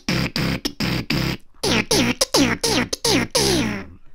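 A beatboxer performs a buzz scratch layered over vocal bass, rapid stuttering bursts of buzzing lip sound with sweeping pitch over a low hum, close, loud and rhythmic, a voice imitating a turntable scratch.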